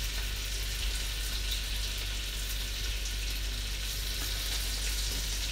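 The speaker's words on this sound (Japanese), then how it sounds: "約2分かけて表裏炒めます" Fresh raw scallops searing in a frying pan, turned to cook both sides for a cream pasta; a steady, dense sizzle holds evenly throughout, close and continuous with no talking.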